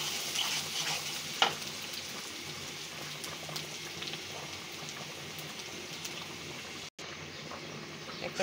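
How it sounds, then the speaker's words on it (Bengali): Whole panch phoron spices sizzle in hot oil for masoor dal, a soft, steady crackle and hiss with faint pops close by and no talk. "পাঁচফোড়নটা দিয়ে দিচ্ছে।"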